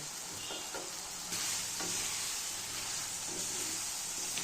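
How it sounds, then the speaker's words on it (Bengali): Ghugni peas being stirred in a pan for a Bengali matar ghugni, a steady close frying sizzle with soft scraping strokes of the spoon throughout, no talking. "এটাকে ভালো করে নেড়ে চেড়ে নেব এটা একটু একটু করে নাড়তে থাকবো"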